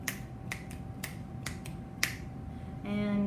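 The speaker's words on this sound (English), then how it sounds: "snapping" Finger snapping as body percussion: about seven crisp, close snaps at a steady, unhurried pace, followed by a brief tonal sound at the end.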